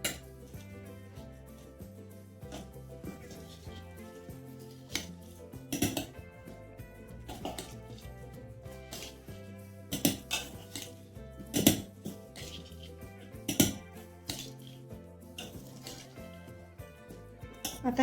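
A spoon stirs wet street-style oli bhel with coriander in a bowl, giving soft squishing and scattered clinks against the bowl over background music, with sharper taps now and then.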